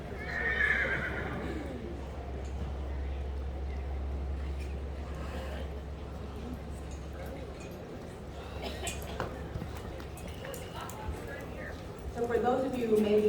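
Young green fillies at an outdoor colt starting competition: a loud whinny rings out near the start and again near the end, hooves clip-clop on a bridge between, while people talk and a low steady rumble runs beneath.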